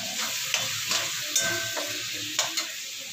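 Sliced chayote sautéing in a hot pan with fish sauce, a steady crackling sizzle punctuated by several sharp scraping stirs of a utensil, close and fairly loud, no voices.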